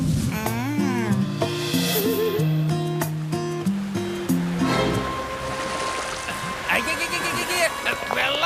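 Cartoon sound effect of water rushing in, a broad whooshing surge that rises over a bouncy musical score in the second half and keeps building to the end.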